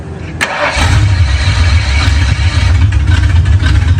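A 1968 Ford Mustang engine cranks briefly and then catches, settling into a loud, steady, rumbling idle close by.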